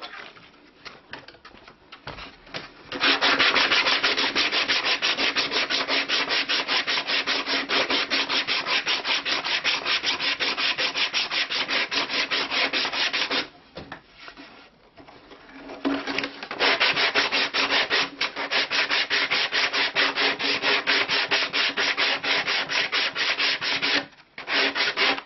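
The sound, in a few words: sanding wood with 60 grit sandpaper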